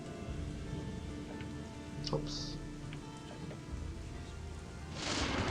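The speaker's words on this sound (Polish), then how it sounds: "I pada nawet, chociaż deszcz mi się podoba w tej grze." Rain falls in the video game Gothic 2: Night of the Raven as a steady, soft hiss of patter throughout, with a voice briefly speaking partway through and the downpour swelling near the end.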